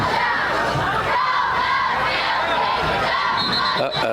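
Football crowd at a high school game, Keystone Oaks at Highlands, cheering and shouting in a dense, continuous roar, loud and sustained with rising and falling swells.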